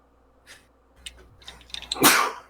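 A single sharp sneeze bursts out at the end after a short inhaling buildup, close and fairly loud, with no talking.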